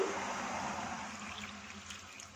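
Water poured into a cooking pot for bottle gourd curry with onions, a steady soft trickling stream that fades gradually over a couple of seconds, close by and without talk.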